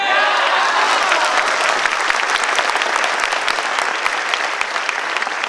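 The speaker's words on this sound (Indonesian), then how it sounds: "Katakan ya dan berdiri dan tepuk tangan." A large audience at a direct-sales company meeting in Indonesia stands and applauds, a loud, continuous wash of many hands clapping with crowd noise mixed in, steady throughout.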